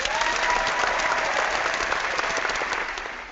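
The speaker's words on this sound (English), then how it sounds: "So, okay, so I got my applause." Steady applause from a small group on a podcast show, dense and continuous clapping that holds level throughout and fades slightly at the end, with no talking.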